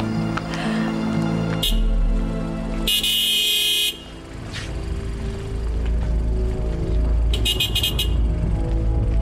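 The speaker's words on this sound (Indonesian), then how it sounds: "Suara bunyi klakson apa?" Car horns honk in two loud bursts, one near the middle and another near the end, over steady street noise outside a mosque as men are leaving it.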